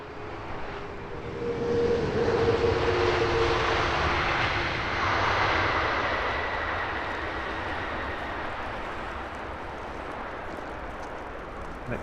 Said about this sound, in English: Emirates A380 off to Dubai, giving us that lovely 180 turn